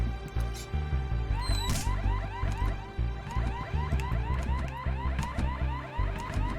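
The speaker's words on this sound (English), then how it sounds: "So when you set the alarm off, you've got to hide." Looping electronic alarm blaring in the stealth video game Horace after a switch triggers it, a steady repeating warble over a low synth music bed, loud and continuous with no talking.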